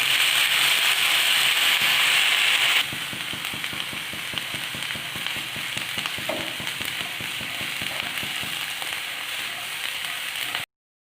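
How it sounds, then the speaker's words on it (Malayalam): Prawns fry in a pan for a prawn, jackfruit seed and raw mango curry. A loud sizzle opens and then settles into a softer, steady crackle with rhythmic spatula scrapes, and no one speaks. "ഇതൊന്ന് നമുക്ക് പയ്യൊന്ന് ഫ്രൈ ആക്കി എടുക്കാം."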